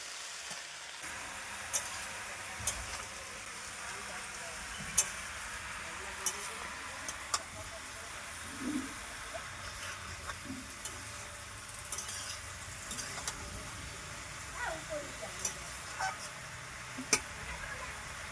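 Malabar spinach with potato and pumpkin fries in a pan with a steady sizzle as it is stirred, spatula scrapes and clinks punctuating the constant crackle at close range.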